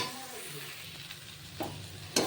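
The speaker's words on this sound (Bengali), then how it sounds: "আলুর দমটা ভালো করে কষানো হয়ে গেছে, বা জল দিয়ে দেবো, গরম জল।" Potatoes for aloo dum sizzle and fry in a pan, a steady moderate hiss with a couple of brief stirring scrapes near the end, no voices.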